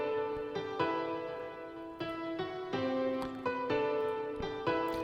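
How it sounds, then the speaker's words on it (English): A Nexus concert piano patch with reverb and delay plays a slow sequence of bright chords and single notes. Each strike rings out into a long wash of echoes and tails, clear and upfront, with no voice. "I've added the delay and it sounds like this"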